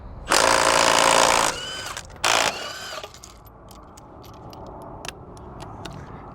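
Loud mechanical bursts of power tool noise while pulling the wheels off a cheap project truck, one long burst then a short second one, followed by quieter clinks and light tool sounds.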